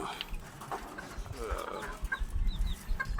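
A hungry Black Rosa SBR gamefowl rooster clucking nearby in short, irregular calls, with other birds faintly in the background outdoors.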